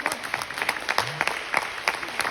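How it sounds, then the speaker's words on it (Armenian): An audience claps for the youngest performers at a theatre show, dense rapid applause that stays steady and fairly close, with a brief voice heard faintly among the claps. "ամենակրտսերների ամենաբարձր ծափահարությունները"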